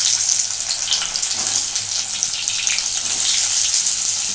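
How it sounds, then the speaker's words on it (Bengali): Boiled potatoes fry in oil in a pan, producing a loud, continuous close-up sizzle that hisses evenly throughout, with no speech. "এই কত আলু আগে আমি খুব ভালো করে আগে ভেজে নেব।"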